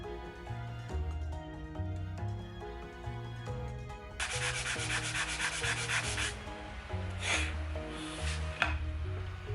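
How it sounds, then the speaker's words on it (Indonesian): Sandpaper rasps rhythmically across wood in steady back-and-forth strokes, first 80-grit, then 150-grit, quicker and brighter partway through. "mungkin sedikit lagi saya amplas dengan 80, kemudian saya hajar naik ke 150 ya"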